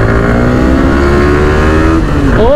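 KTM RC390 motorcycle engine held at high revs on a single-lane road, a loud steady near drone whose pitch climbs sharply at the end as it accelerates past.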